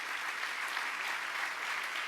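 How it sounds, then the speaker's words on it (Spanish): A church congregation bursts into steady applause of praise during a sermon. The clapping forms an even, continuous wash from a crowd, moderately loud and slightly distant, with no voice on top. "Dele un buen aplauso de alabanza a Jesús."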